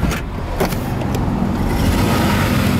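A 2000 Jaguar XJR sports sedan's supercharged V8 runs steadily at idle, heard loud and close as an even, unbroken engine rumble with no talk over it.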